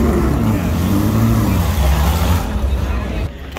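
An authentic Ford GT40 classic race car roars past close by on a Carmel street, its loud engine rumbling and sweeping in pitch before fading. Crowd chatter can be heard underneath.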